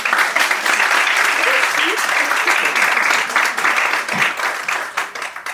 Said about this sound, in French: Ça mérite quand même une acclamation.